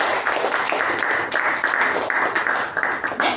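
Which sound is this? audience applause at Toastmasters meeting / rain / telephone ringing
audience applause at Toastmasters meeting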